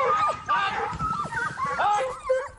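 A pack of hounds closing in while hunting a fox, giving overlapping yelps, whimpers and excited barks near and continuous throughout, with some talk mixed in.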